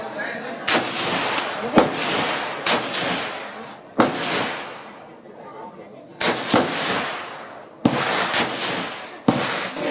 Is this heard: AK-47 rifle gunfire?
yes